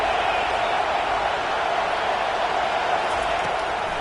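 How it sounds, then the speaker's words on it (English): A loud American football stadium crowd roars continuously before a third-down play at a Colorado at West Virginia college game, a dense, sustained wall of cheering noise with no break. "3rd down, and this crowd is tearing the lid off this place."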